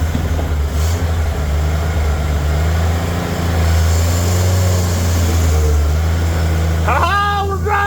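An old vehicle's engine cranks on a slow battery and then runs, a loud steady low rumble filling the whole stretch, with a voice briefly audible near the end.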